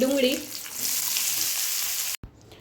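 Asafoetida and curry leaves hit hot oil with browned urad dal while making vegetable upma, producing a loud, bright sizzle that holds steady before cutting off abruptly near the end.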